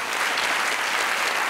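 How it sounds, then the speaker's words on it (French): Audience applause during a French comedy stand-up routine, a dense, steady wash of many hands clapping at full volume from start to finish. "tu peux applaudir, c'est la vérité"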